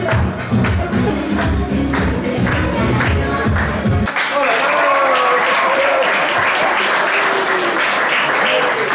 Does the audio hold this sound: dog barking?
no